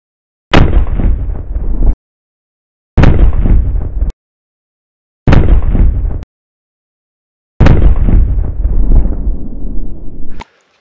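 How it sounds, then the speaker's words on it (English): Four booming shots from a Colt 1851 Navy black powder race revolver, each a sharp crack with a long ringing decay, spaced roughly two to three seconds apart, the last shot lingering longest. "that is putting my 51 Navy race gun through its paces"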